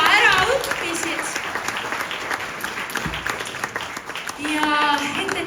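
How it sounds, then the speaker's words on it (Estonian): Audience applause for children who have just learned a song, a steady wash of many hands clapping throughout, with a voice speaking over the start and again near the end. "tehke muidugi oma lastele suur aplaus"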